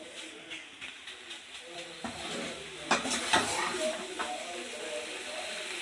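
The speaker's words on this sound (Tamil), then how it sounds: "நானே கொஞ்சம் கிண்டுடுவேன்" Boneless chicken for pickle is stirred in a pan, making a soft sizzle with scraping and clinking strokes that grow busier partway through, under quiet talk nearby.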